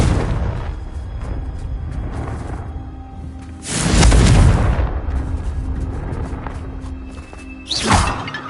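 A Confringo blasting curse detonates in Hogwarts Legacy, a loud booming explosion mid-clip followed by a shorter blast, over a low rumbling background.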